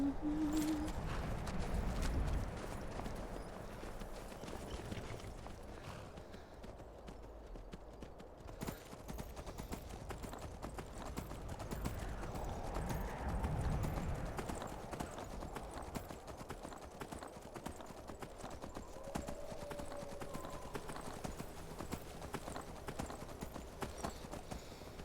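Horse hooves clip-clop steadily in Skyrim Special Edition, a modded fantasy role-playing game, as the mount walks along, with a continuous rhythmic patter over game ambience and music.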